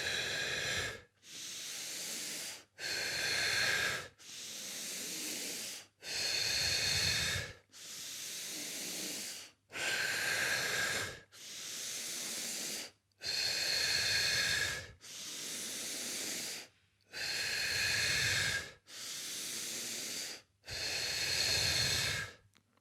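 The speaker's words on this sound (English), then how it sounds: "I'm going to do another 6 breaths, and I'm going to do this 3 times" Energetic deep breathing exercise done in sets of six breaths: loud, forceful rushes of air at a steady rhythm, about eleven close breath bursts separated by short silences, with no talking.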